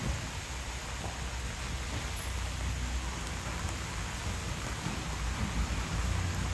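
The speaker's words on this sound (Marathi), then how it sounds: "वा पाऊस पुन्हा एकदा" Steady, dense rain hiss fills the whole stretch, even and continuous with a low rumbling undertone, no voices present.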